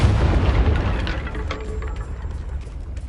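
A Confringo explosion spell in Hogwarts Legacy, a loud close boom at the outset that rumbles and fades over a few seconds with a faint crackling tail.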